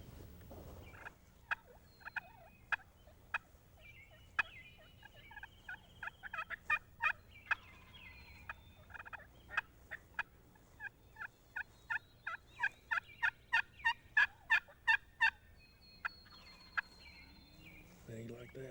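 A slate turkey call imitates a bunch of hens feeding on a hillside, with soft clucks and purrs building into quick bursts of sharp yelps, fairly close in a quiet spring woodland.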